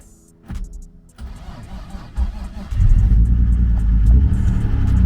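A BMW E36 car engine starting after sitting unused for a month in cold weather: quiet clicks, a cranking attempt, then the engine catches and settles into a steady, loud idle rumble.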